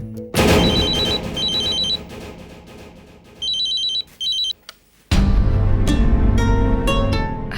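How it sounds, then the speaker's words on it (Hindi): A telephone bell rings loudly in repeated bursts with short gaps, then cuts off as louder music swells in, in a domestic scene from an Indian television drama. "अरे सिमर, कब से फोन बज रहा है,"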